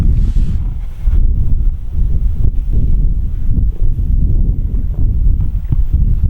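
Steady wind buffeting the microphone, a loud continuous low rumble with gusty swells throughout, no voices.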